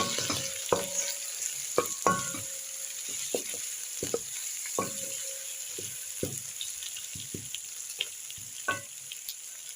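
Pilau being stirred in a cooking pot makes scattered close scrapes and knocks of a spoon against the pot over a faint sizzle, irregular and fairly quiet, with no talking.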